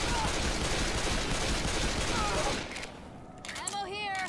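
Rapid gunfire from Left 4 Dead 2 rattles loud and dense for about two and a half seconds, then cuts off into quieter game sounds with people talking.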